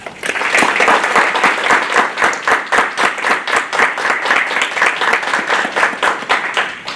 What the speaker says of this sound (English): Please again give all of our award winners one more round of applause.